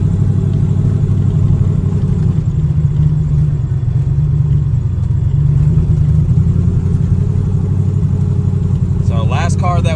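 A turbocharged Datsun 280Z idles steadily while warming up, a low, even rumbling engine note held throughout, with a brief faint sound near the end.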